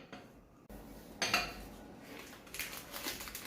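A spoon stirs eggless donut batter in a bowl, giving a few soft scrapes and clinks of utensil against bowl in short bursts with quiet gaps between them.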